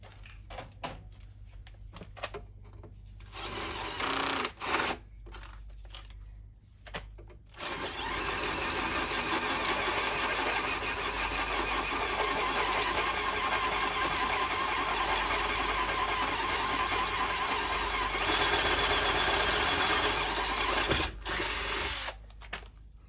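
A power drill opens an 8mm bolt hole out to 10mm on a trolley, starting with a few short bursts, then running continuously and loudly for a long stretch before stopping with brief final pulses.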